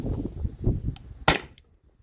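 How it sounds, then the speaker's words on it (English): A CO2-powered air gun fires a single sharp, loud shot in the middle, followed by a brief ring-off, with low murmuring and handling noise before it and near silence after. "I'll let it chill for a few minutes and then shoot it again"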